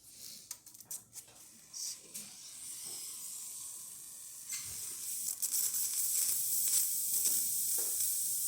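A Gaggia Classic espresso machine's steam wand, newly serviced with an unclogged tip, hisses steadily; the rush builds and grows louder through the second half after some irregular clicks and handling noises at the start.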